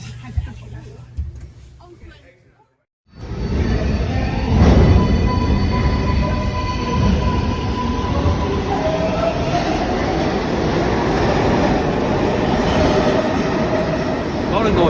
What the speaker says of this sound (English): we've just got off the number 7 train at Grand Central now